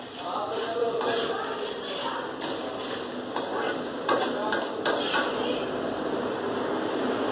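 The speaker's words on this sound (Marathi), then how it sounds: "आता यामध्ये पोहे टाकून तळून घेऊयात." Corn-flake poha (maize flakes) frying in hot oil for a Maharashtrian corn chivda, giving a steady broadband hiss and crackle with scattered sharp pops and clinks, moderately loud and continuous throughout.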